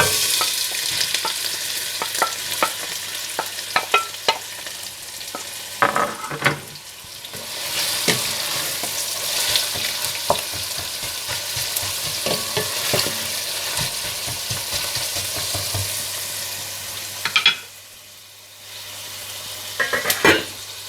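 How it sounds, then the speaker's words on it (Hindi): Onions frying in hot desi ghee in a pan for a Kashmiri gushtaba masala, a steady close sizzle broken by repeated scraping and stirring clicks, with a brief quieter dip near the end. "आप देसी घी गर्म कर लें। और इसमें प्याज डालकर हल्के ब्राउन करके निकाल लें।"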